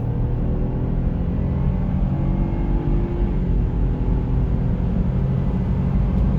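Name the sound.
BMW 318i F31 accelerating hard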